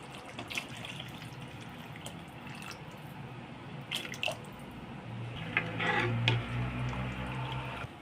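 Dissolved tamarind water pours into a pot of boiling fish curry, a steady trickling and splashing that swells louder toward the end, with faint ticks and clinks from the pot.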